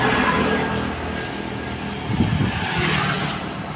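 Highway traffic makes a steady, loud broadband roar of passing vehicles with no clear gaps, swelling slightly as one vehicle goes by near the middle.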